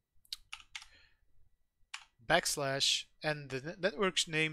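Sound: typing a network share path on computer keyboard

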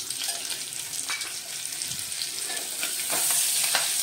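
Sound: garam masala and curry leaves roasting in oil

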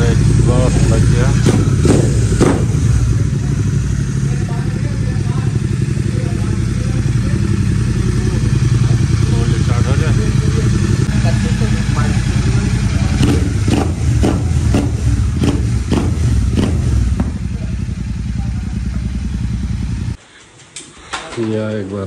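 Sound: motorcycle engine with newly fitted exhaust

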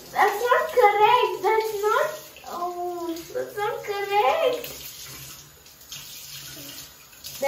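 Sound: tap water while washing face

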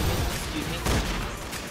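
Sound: gunfire in Roblox Zombie Rush video game

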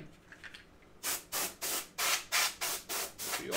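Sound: compressed air duster spraying dust off a computer

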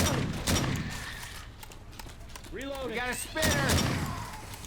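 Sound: shotgun firing in video game Left 4 Dead 2

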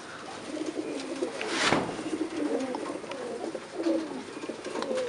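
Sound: pigeons cooing at a breeder's loft

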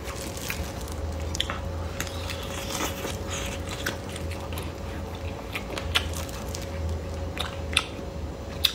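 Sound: eating roasted sausage, biting and chewing

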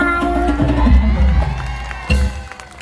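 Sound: audience applause and cheering after a song

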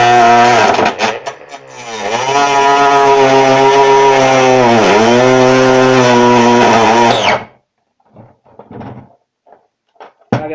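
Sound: power tool cutting with a disc, switched to speed 2

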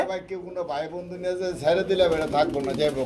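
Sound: pigeons cooing

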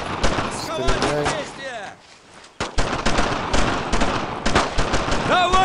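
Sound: gunfire in video game Brothers in Arms: Road to Hill 30

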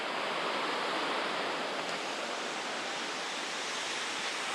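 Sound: waterfall in Japan

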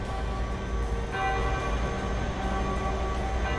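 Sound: church bells tolling in a village

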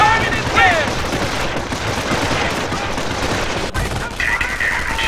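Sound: gunfire from the Company of Heroes video game

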